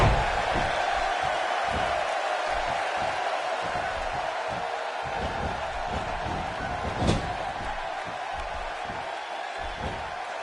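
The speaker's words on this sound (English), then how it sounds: "by the sound of this crowd, I think they're getting what they wanted" Crowd in the WWE 2K16 wrestling video game, a steady wash of arena cheering under a commentator's voice, with a sharp slam-like impact partway through.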